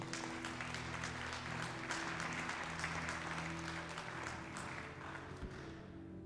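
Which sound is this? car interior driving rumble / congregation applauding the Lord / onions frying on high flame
congregation applauding the Lord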